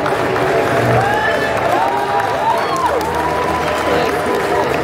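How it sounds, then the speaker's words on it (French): Audience applause and crowd noise for a cosplayer on stage at a French comic con, a steady close wash of clapping and cheering with voices mixed in throughout. "On peut l'applaudir bien fort."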